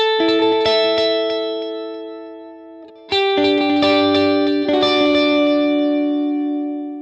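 Sustained electric guitar chords through a compact multi-effects pedal ring out with long echoing delay repeats, a wide shimmering wash of reverb and wavering modulation, restruck midway and left to decay.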